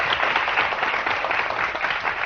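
A studio audience on a morning TV show claps together in a dense, steady burst of applause that stays loud and even from start to finish.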